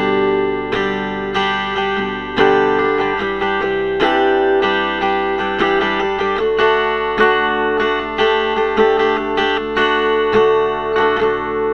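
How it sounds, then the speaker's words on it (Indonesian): An acoustic guitar played through a cheap Dolphin soundhole pickup, strummed and picked continuously with a slightly distorted, buzzy amplified tone, loud and alone without talk. "Bunyinya kayak ada distorsi-distorsi dikitnya ya."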